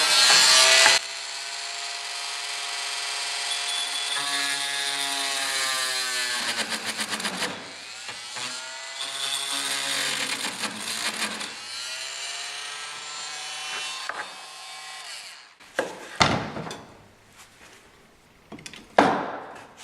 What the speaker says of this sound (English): So just using a Dremel tool with a wood cutting blade on it. Just gonna cut a slot.